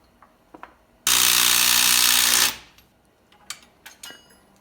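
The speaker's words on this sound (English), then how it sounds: "Whenever I tighten things with an impact like this" An impact wrench tightens the suspension pinch bolt on a front wheel bearing job of a Dodge Neon, firing in one loud buzzing burst of about a second and a half, framed by light tool clinks before and after.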